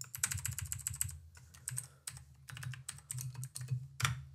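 Code being typed into MATLAB on a computer keyboard: close, brisk bursts of key clicks with short pauses between runs, ending in a sharper final keystroke, with no voices.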